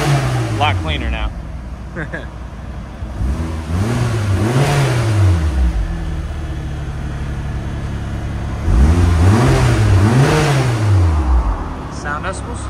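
A right-hand-drive Japanese-market 1996 Mitsubishi Lancer Evo with a resonator-delete exhaust and the rear muffler still fitted, revved twice in loud rising-and-falling sweeps, with idle between the pulls.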